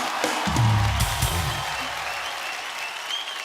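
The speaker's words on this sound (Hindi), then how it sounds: "सो एक बार जोरदार तालियां हो जाए आप सबके लिए" Studio audience of a TV comedy show breaks into loud applause, a dense burst of clapping that peaks early and then settles into a steady, fading patter.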